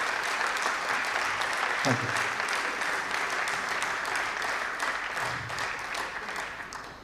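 Seminar audience applauding to welcome a speaker, sustained loud clapping from many hands filling the room, with a brief spoken thanks in the middle.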